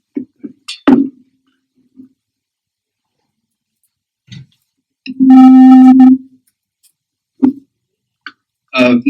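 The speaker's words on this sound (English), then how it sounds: "this is what ni sounds like if it is actually a sine wave" A pure sine-wave tone of the note A, known as ni, sounds once for about a second, steady and clear, surrounded by brief faint clicks and near silence.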